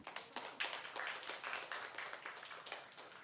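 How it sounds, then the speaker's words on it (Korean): Audience members at a humanities lecture on classic literature clap together in a quiet, uneven patter of hands, heard somewhat distantly in the hall. "박수 한번 쳐주십시오"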